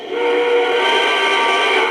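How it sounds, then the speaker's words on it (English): A loud, steady steam-style whistle from a Lionel model train blows continuously for a couple of seconds, thin and slightly tinny like a small toy speaker. "If I do the whistle,"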